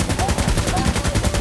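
Rapid automatic fire in Insurgency Sandstorm hammers out at a fast, even rhythm, about ten rounds a second, loud and close throughout the brief burst.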